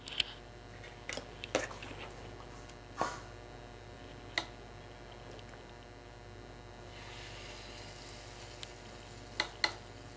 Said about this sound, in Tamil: இப்போ நம்ம மாவை வந்து ஊற்றிடலாம்.